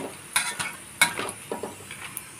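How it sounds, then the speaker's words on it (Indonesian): Chicken batagor wrapped in wonton skins fried in hot oil, heard as sparse sizzles with a few sharp clinks and scrapes of a utensil against the pan, close and fairly quiet, with no talk. "Kita goreng sampai warnanya kecoklatan."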